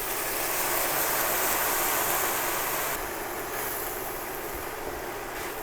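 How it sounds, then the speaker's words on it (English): Starchy pasta water is poured from a pot into a green pesto and vegetable sauce, making a steady, close, hissing splash that runs for several seconds and eases slightly toward the end. "I'm going to take some of my pasta water and add that in"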